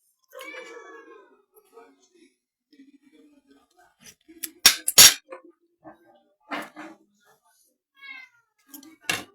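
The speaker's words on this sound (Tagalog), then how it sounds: "Palabasin mo ang pusa, Ares." A domestic cat meows several times up close in a quiet room, the short wavering cries spaced out between soft clanks and brief whispered voices.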